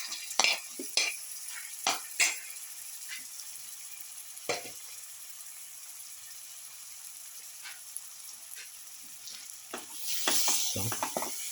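Bottle gourd pieces fry and are stirred in a pan with celery leaves, giving a soft steady sizzle broken by scattered spatula scrapes and clinks against the pan, growing busier near the end.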